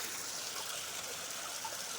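Water flows steadily beside a waterside spot outdoors, a faint, even trickling rush that holds constant throughout, with no voices.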